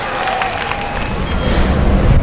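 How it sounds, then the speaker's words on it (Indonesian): Audience applause and cheering for Zafira at a religious study gathering, a loud sustained wash of clapping from a crowd that swells toward the end, with no talk over it. "Oke, tepuk tangan untuk Zafira"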